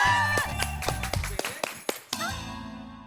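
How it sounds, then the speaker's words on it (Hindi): A few sharp claps ring out amid lively music and voices, loud and close, then a brief pause before the music resumes. "जोरदार तालियां"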